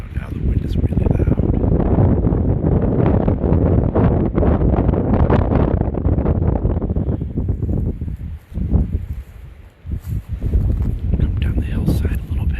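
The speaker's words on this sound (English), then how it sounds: "Now the wind is really loud." Strong spring night wind on a hillside walk roars into the microphone as heavy, continuous buffeting, dipping briefly before surging again.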